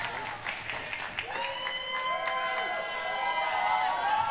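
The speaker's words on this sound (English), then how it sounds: "The American crowd getting into it." An American crowd at a men's doubles foosball World Cup final applauds and cheers, with sharp clacks of the ball and table over rising clapping and voices that swell toward the end.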